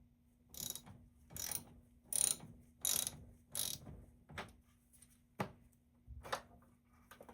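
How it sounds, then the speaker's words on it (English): A 10mm socket wrench loosens the negative battery terminal nut on a 2016 Toyota Corolla, giving a series of quiet, close ratcheting bursts spaced roughly evenly, under a faint low hum. "Using 10mm socket or wrench, unscrew the nut that holds the cable end on the negative terminal."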